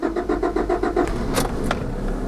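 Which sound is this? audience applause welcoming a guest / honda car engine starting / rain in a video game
honda car engine starting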